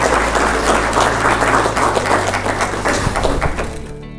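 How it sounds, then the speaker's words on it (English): Applause breaking out in a courtroom after an adoption name change is granted, a close, full burst of many hands clapping, steady and loud before tapering off at the end. "Y'all can clap."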